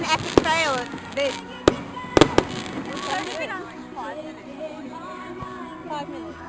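Fireworks at a summer show burst in sharp, loud bangs, several in quick succession with a close pair, over crowd chatter and voices talking nearby.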